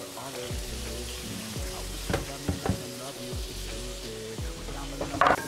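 Beef mince frying in a pan with onion and chili, a steady sizzle with a few louder crackles and stirring scrapes near the end; a voice speaks faintly at times.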